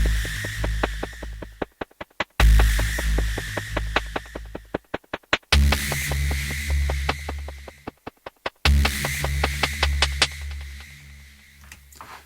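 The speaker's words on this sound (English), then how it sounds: "I created my own little patch because I wanted to have a hi-hat-like sound to support the rhythm." A synthesized hi-hat-like percussion patch built from a short noisy sound in Dark Horizon, ticking in a steady rhythmic pattern of crisp bursts. Sections cut in and out abruptly, with a low sustained tone underneath.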